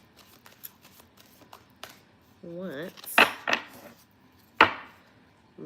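Witch's Oracle tarot cards are shuffled by hand in a few short, crisp riffling bursts, close and fairly quiet, with a brief spoken word just before.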